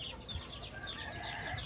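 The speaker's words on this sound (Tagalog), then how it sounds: "Dahil manok dito guys" Chickens on a small farm clucking and calling, several birds overlapping in quick chattering clucks and short squawks, fairly faint against a low outdoor rumble, with no one speaking.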